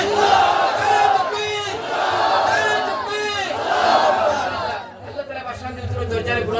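A crowd at an Islamic sermon gathering roars a unified chant in answer to a takbir call, rising in about three loud, swelling waves before fading into quieter murmur.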